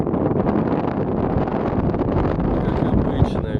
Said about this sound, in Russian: Как обычно, ветер.